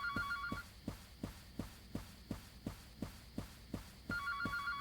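In a video game, a telephone rings at midnight, a warbling electronic ring at start and end with a steady throbbing pulse, like a heartbeat, beating about twice a second underneath, faint and distant-sounding.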